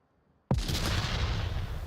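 A single loud grenade blast in Onward VR hits suddenly after a near-silent moment, with a sharp attack and then a long rumbling, crackling tail that fills the rest of the moment.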